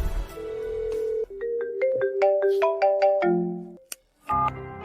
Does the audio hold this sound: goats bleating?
no